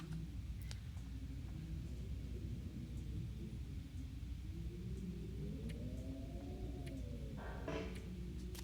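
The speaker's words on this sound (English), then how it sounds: "So it sounds like a storm." Video game thunderstorm, a low rolling thunder rumble that swells and fades across several seconds beneath a faint steady hiss, quiet and with no talk.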